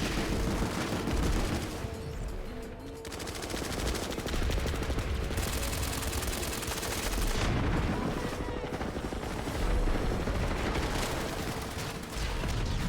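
Gunfire in a shooter video game with shielded enemies: dense, loud rapid bursts, like automatic weapons, rattle almost continuously throughout with only brief dips between volleys.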